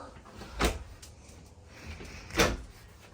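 Two quick wooden knocks of storage drawers sliding shut inside a 2024 Renegade Explorer 40ERB Super C motorhome, spaced about two seconds apart over a quiet room.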